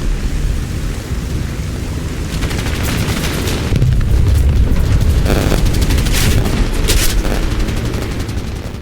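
Aircraft gunfire fills a flight combat video game dogfight in which the player's plane is shot down, with loud continuous engine roar, rapid bursts of machine-gun fire and heavy booms.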